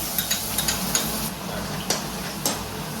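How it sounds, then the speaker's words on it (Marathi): Chopped onion sautés in hot oil in a pan for spinach paneer curry, a steady sizzle broken by several sharp scrapes and clicks of a spoon stirring against the pan. "कांदा परतवून घेऊया आपण."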